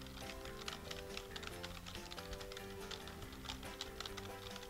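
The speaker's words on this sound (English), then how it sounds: "Typing an essay?" Someone types on a computer keyboard at a library, with quick irregular clicks and taps in a steady stream, quiet and close, with a faint hum of music or room tone behind.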